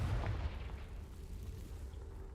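A Confringo fire spell explodes in the Hogwarts Legacy video game. A deep boom bursts up front, and its low rumble lingers and fades over the next couple of seconds.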